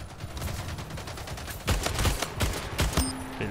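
Rapid bursts of gunfire from the video game Splitgate, dense overlapping shots with several sharper loud cracks in the second half, continuous and close, with no talking.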